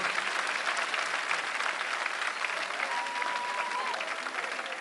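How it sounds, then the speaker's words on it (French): Sustained crowd applause, many hands clapping steadily and loudly before easing off slightly, with faint voices mixed in. "Ça vaut des applaudissements à se faire entendre à Ziguinchor."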